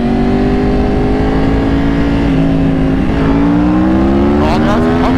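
Yamaha R1 motorcycles pulling hard in second gear from a 50 roll, their engine notes climbing steadily in pitch, loud and close and continuous, with a brief shift or dip partway through.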